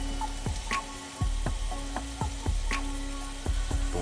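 Ground bison sizzling in a frying pan, a steady close crackle with sharp pops and spatters, loud and alone without any talking.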